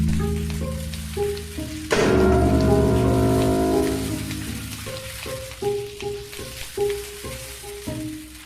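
Steady rain falling on a surface in a children's educational setting, a continuous patter under a gentle melodic music track with a louder swell partway through.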